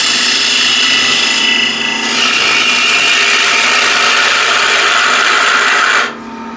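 A ball gouge cuts the inside of a wooden container spinning on a woodturning lathe, a steady close broadband scraping hiss that runs continuously, briefly dips, then cuts off sharply near the end leaving a lower hum.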